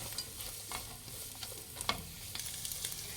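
Capsicum and carrot stir-fry with egg for noodles in a pan, a quiet steady sizzle punctuated by irregular scrapes and taps of a spatula as the vegetables are tossed.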